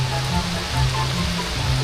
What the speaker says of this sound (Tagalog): Umuulan pa. Guys, umuulan. Ang lakas.